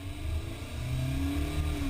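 A Kia Optima's 2.4-litre four-cylinder engine revs with a low, steady drone that rises slightly, heard up close for a couple of seconds.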